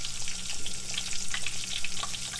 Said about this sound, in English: Start to lay them in there and start frying them up.